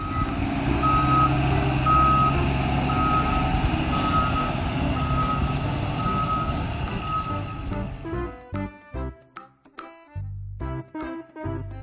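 A small electronic reversing beeper on a toy forklift sounds in steady, evenly spaced tones over a motor hum, then gives way to jumbled short tones and clicks.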